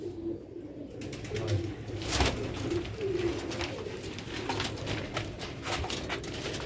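Rare Sialkoti slate-grey pigeons coo in a steady low murmur, with scattered flutters and small knocks around them, all fairly close and with no talking.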